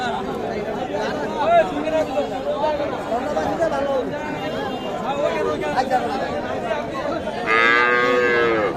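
Calves and cattle at the Kaharol cattle market moo close by, several drawn-out calls, with a louder bellow near the end over constant crowd chatter and people talking.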